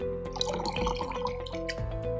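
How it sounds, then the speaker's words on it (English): Tap water runs and splashes over the probe face of a Bluelab combo meter during a rinse, a short, close, steady trickle with dripping. "Now give the probe face a rinse with some fresh tap water"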